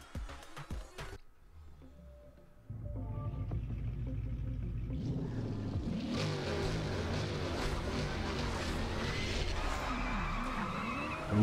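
A Corvette in the racing game Forza Street revs hard at the start of a race against a 918 Spyder, a deep engine roar rising into steady, loud rumbling wheelspin that carries through to the end.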